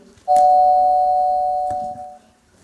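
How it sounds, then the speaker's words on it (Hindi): An electronic doorbell chimes twice, a sustained bright tone holding for about two seconds before stopping, fairly loud and close. "डोरबेल बजती है,"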